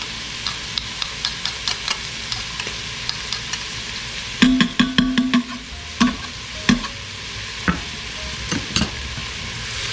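Garlic sizzling in an Instant Pot, with a steady frying hiss and scattered stirring clicks and taps, a quick cluster of knocks near the middle.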